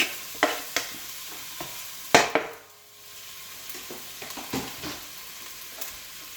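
Diced white onion and garlic dropped into warm oil, with scraping stir strokes and soft clatter against the pan over a low, quiet sizzle; the hiss is faint beneath the repeated utensil knocks, and no one speaks.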